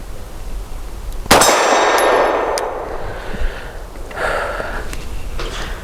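A Tisas Zigana PX-9 G2 pistol fires a single loud, sharp shot at an outdoor range, followed by a metallic ringing tail and quieter handling noises afterward.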